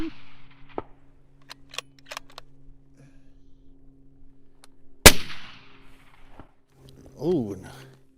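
A single sharp rifle shot cracks out at a coyote in the badlands, a loud isolated report that follows quiet whispered talk and is followed by excited voices.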